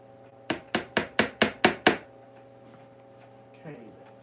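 Seven quick, sharp strikes, likely brass tacks hammered into the upholstery of a Victorian Eastlake chair, falling in a steady rhythm over a low hum, followed by a brief soft sound.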